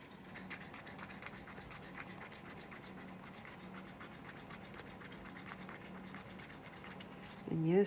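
Epoxy resin stirred vigorously in a cup, a steady close scraping and tapping that runs evenly throughout, with a louder clatter right at the end.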